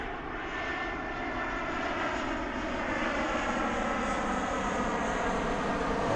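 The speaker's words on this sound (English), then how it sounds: "Look at that plane landing here" An airplane coming in to land at Lanzarote, its aircraft engine a steady, fairly loud droning roar that holds evenly throughout, heard alone with no talk.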